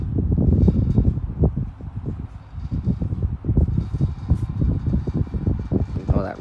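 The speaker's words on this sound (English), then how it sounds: "Now it's speeding up. This is the cage rattling." Cage on a machine rattling as it speeds up, dense irregular low clattering and buffeting, loud and close, continuous throughout.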